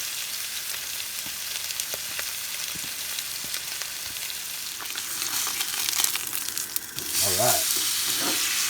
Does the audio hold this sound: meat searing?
yes